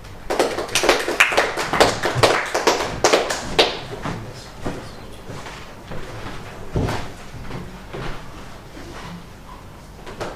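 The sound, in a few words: audience applause welcoming a speaker at a meeting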